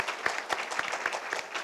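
Audience applause for a newly introduced committee member and treasurer of a Thai tilapia association, steady dense clapping from a crowd with a few distinct near claps.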